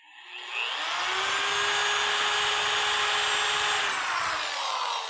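An electric drill bores a guide hole into the steel radiator core support of a 1965 Ford Mustang, a steady high-pitched whine spinning up, holding for several seconds, then winding down, with no talking.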